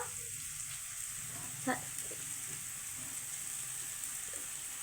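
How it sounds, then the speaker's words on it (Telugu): Chicken curry fries in oil in a pan with a steady, close sizzle as garam masala, pepper and other spices are stirred in, with one brief clink of the spoon midway. "కొంచెం గరం మసాలా అన్నీ వేసి కలుపుతున్నారు"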